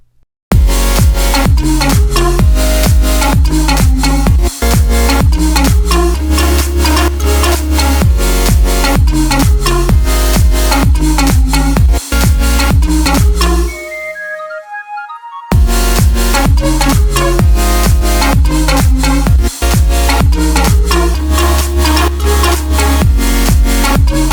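Loud, dense electronic dance drop with a heavy pounding kick and thick bass, briefly dropping out into a sparse high riser before slamming back in.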